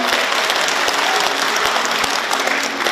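An audience at a Korean book launch event breaks into steady, loud applause welcoming guests, a dense crowd of clapping hands throughout.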